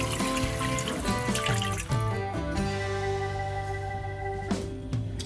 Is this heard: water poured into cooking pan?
yes